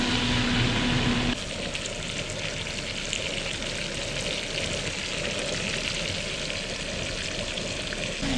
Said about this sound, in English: we're basically just going to quickly sear the outsides of these and let them rest for a little bit